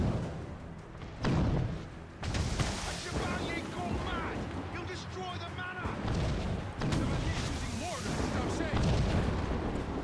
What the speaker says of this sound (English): Oh, he's using mortars to stop me, is he?